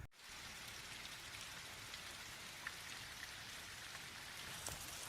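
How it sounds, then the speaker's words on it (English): Rain comes down steadily around a spot near Mammoth Spring, Arkansas, a soft continuous patter with scattered louder drops landing nearby, faint and unbroken by speech. "So today is all rainy."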